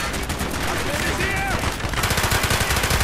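Enemy gunfire in Call of Duty Black Ops crackles through the whole stretch, with dense rapid bursts that grow louder and more continuous near the end.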